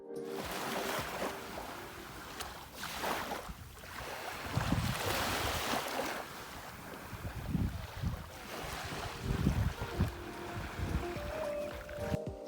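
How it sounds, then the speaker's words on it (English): Ocean waves wash in and retreat along Seven Mile Beach on Grand Cayman, a steady surf with broad swells breaking every few seconds, mixed with gusty wind buffeting the microphone; no voices. "I'm going to turn up the sound of the ocean here for a few seconds to let you enjoy it"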